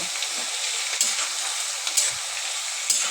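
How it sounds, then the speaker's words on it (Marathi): Mixed vegetables such as tomato, carrot, cauliflower, cabbage and beans are stirred in a sizzling pan for masala fried rice, with a steady frying hiss and a few sharp scrapes of the spoon, no talking. "सर्व भाज्या मिक्स करायच्या."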